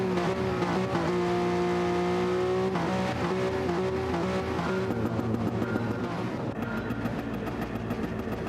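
Several race cars from Gran Turismo 7 drive close together in online lobby racing, engines droning loudly and steadily with shifting pitch as cars run side by side, no voices.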